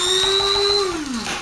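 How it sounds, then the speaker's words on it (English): Steady high-pitched motor whine of a lawnmower in the video game Alan Wake 2, loud and continuous for about a second before the pitch sags downward as it winds down. "what's that lawnmower?"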